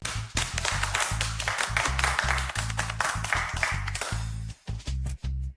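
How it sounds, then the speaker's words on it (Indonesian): Office staff applaud a newly introduced team leader: brisk, continuous clapping from a group of coworkers over a steady, pulsing low backing track, briefly thinning out near the end. "semuanya berikan tepuk tangan meriah"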